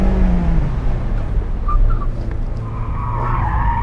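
Mazda MX-5 RF powering through a corner, a loud close engine note with tire scrub and a brief squeal, building as the throttle opens toward the end.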